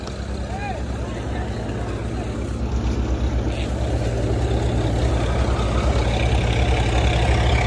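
Tractor engine driving through a field during sowing, a steady low rumble that grows slightly louder over time, continuous with no pauses.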